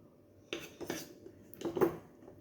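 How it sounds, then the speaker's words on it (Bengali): Cornflour being stirred with oil in a bowl: a few close scraping and clinking strokes of a utensil against the dish, spaced irregularly, with no talking. "কিন্তু আমি কর্নফ্লাওয়ারের সঙ্গে তেলটাকে মিশিয়ে নেব"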